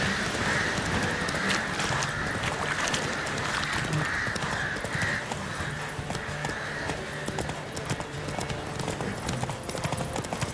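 A horse gallops in The Witcher 3, with continuous rapid hoofbeats pounding steadily throughout, close and evenly paced, over ambient game sound.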